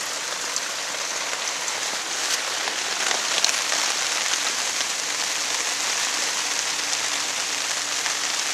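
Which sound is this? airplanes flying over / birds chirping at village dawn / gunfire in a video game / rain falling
rain falling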